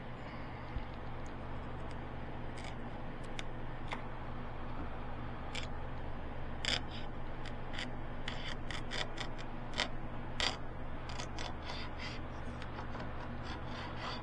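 Hand scraper feathering the edge of old varnish on a ship's hatch, producing repeated short rasping strokes close up over a steady low background hum, with no talking.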